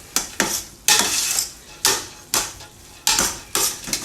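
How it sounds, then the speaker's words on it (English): Beef being mixed in a pan for bolognese, heard as loud, close bursts of stirring and scraping, about seven sharp strokes separated by short pauses with sizzling beneath. "I'm now going to add the beef to this. Give that a good mix."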